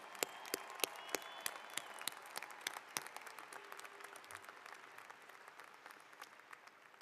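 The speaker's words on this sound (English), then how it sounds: "Let's give everyone a round of applause." Commencement audience at the University of Idaho spring graduation ceremony claps in a steady wash of applause, with sharp individual claps standing out near the front, gradually thinning over about seven seconds with no talk.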